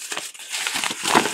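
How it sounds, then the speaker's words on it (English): A sheet of Hahnemühle cotton watercolor paper crumpled by hand, giving close, loud, irregular crinkling and crunching bursts with no voices. "Crinkle this all up and ruin that beautiful, smooth sheet of paper."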